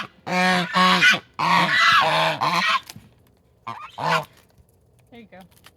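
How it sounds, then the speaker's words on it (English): Hungry geese honk loudly and close by while being fed cabbages, in bursts of harsh repeated calls with gaps between, then fainter honks toward the end. "let's go feed these cabbages to the very, very hungry and grumpy geese"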